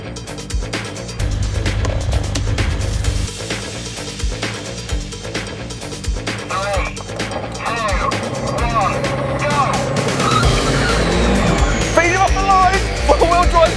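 A Mercedes-AMG A45 and a CLS63 AMG launch in a drag race, with engine roar climbing in rising sweeps as they accelerate, and an excited voice talking over it.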